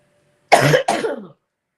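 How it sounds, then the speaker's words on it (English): A single close cough in two quick bursts, then silence. "And I'm fixing to cough again."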